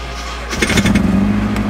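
Nissan 240SX engine, after a dead battery, cranks and catches about half a second in, then settles into a steady, rumbling idle, close and loud with no talk over it.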